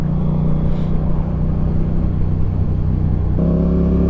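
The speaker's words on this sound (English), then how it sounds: "I love my exhaust sound from my MT-07. This Yoshimura exhaust is, sound actually really, really good." A Yamaha MT-07 motorcycle with a Yoshimura exhaust runs with a loud, close, steady twin-cylinder drone, its pitch stepping up as the engine revs higher near the end.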